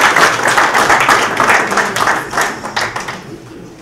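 An audience applauding at a transitional justice policy symposium after a presentation, a dense, steady wash of many hands clapping at close range that eases slightly toward the end.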